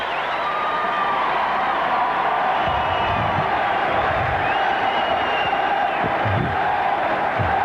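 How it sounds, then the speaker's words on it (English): Wigan rugby league supporters at a cup final chant and cheer as a broad, sustained crowd noise, with swelling bursts of massed voices rising out of the continuous roar. "The chant of Wigan rises from..."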